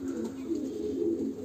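Pigeons in a coop coo in a low, soft, continuous murmur, several birds overlapping close by with no speech.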